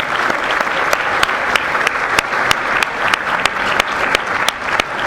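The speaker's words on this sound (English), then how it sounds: "So we'll have one last round of applause for our speakers." A debate audience in Manchester claps for the speakers. The applause is dense, loud and sustained, with sharp individual claps standing out across the whole stretch.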